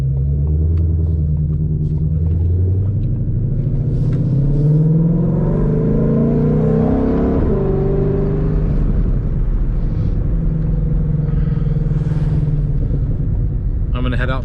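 A 2020 Shelby GT500 accelerating hard through quick paddle shifts, its engine roaring and rising in pitch, dropping at each shift, with crackling exhaust pops, loud and close from inside the car as someone speaks over it.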